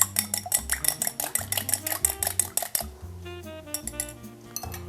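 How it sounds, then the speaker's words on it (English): A whisk beats one egg, milk and vanilla in a bowl, rapid rhythmic clinking and tapping close up, steady and continuous throughout with no talk. "Your liquids are 1 egg, 3 tablespoons of milk, and a teaspoon of vanilla. And just whisk that together."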